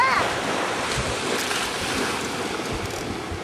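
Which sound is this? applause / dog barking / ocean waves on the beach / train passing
ocean waves on the beach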